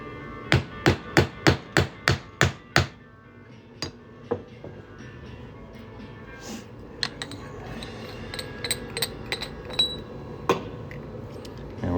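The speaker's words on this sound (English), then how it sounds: "put our punch on top and hammer it through" Sharp metal-on-metal hammer strikes, about nine in a quick steady rhythm, as a 1/2 inch punch is driven through a state quarter coin, then a few scattered lighter taps and clinks, close by.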